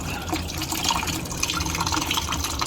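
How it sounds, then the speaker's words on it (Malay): Water trickles and drips down a clogged sink drain, gurgling slowly and steadily at close range with no talk over it. "Ok, air turun juga, tapi lambat sikit."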